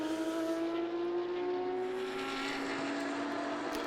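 Belcar Series race cars, a Belgium Racing entry battling a yellow and blue Porsche at a circuit, drone past at high revs in a steady, loud engine whine that slowly drops in pitch, with no talk over it.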